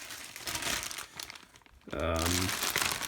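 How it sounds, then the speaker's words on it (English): A plastic bag crinkles in bursts while a rework station is unpacked, rustling close to the microphone as someone talks over part of it. "Warning, plastic bags can be dangerous, so don't eat your plastic bags."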